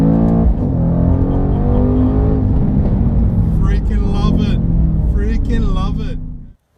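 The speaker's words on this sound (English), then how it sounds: "this intoxicating V8 sound" A 2019 Mercedes-AMG C63 S with its V8 engine, a deep, loud, steady drone heard from inside the car that holds for several seconds before cutting off abruptly, with bright higher-pitched sweeps breaking through midway.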